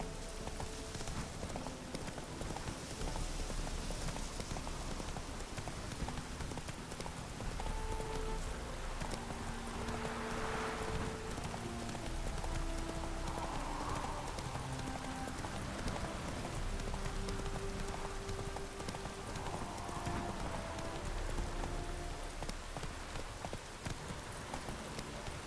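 Roach, a horse in the video game The Witcher 3, gallops in the rain, with a steady rhythmic clip-clop of hooves over a constant hiss of rainfall throughout.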